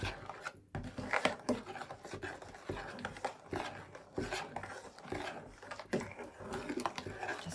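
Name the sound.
stirring thickening rice pudding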